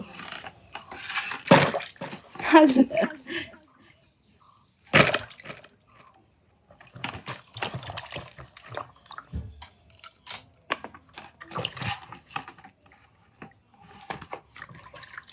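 Freshly cut mangoes get rinsed under running tap water, with intermittent splashes, drips and wet squishing in short bursts separated by quiet gaps, close by and fairly soft.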